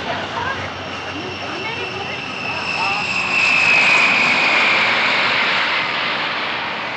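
A fixed-wing airplane, flight 312, departs with a steady engine drone that swells and grows louder toward the middle, then holds, heard alone without talk.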